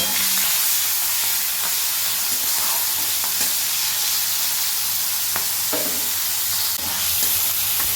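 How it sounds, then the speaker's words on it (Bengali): Shrimp frying in hot oil give off a loud, continuous hissing sizzle close by, broken by a few soft spatula taps, with no voices. "এবারে চিংড়ি মাছটা এর ভেতর দিয়ে ভেজে দেবো"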